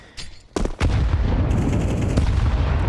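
A grenade goes off during a Counter-Strike 2 esports match, a few sharp gunfire cracks followed by a loud sustained blast and rumble that fills the rest of the moment.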